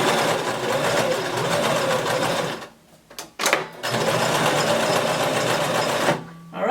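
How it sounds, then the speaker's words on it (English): A sewing machine stitches skirt fabric forward, stops briefly, then back-stitches and runs forward again, a steady close whirring hum with short pauses near the middle and end. "Then you're going to sew forward again. And back stitch."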